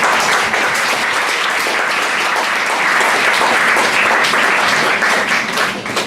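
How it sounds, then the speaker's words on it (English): Audience at a poetry club night giving a round of applause, dense sustained clapping from a crowd close by, tapering off at the very end. "Would you please give another round of applause for Taonga?"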